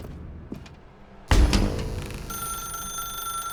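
In The Stanley Parable, a telephone suddenly starts ringing after a quiet dark-room hush, its loud electric bell tone continuing steadily to the end.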